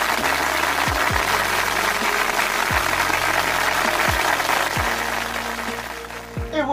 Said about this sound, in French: on applaudit bien fort le groupe de Johan et Britney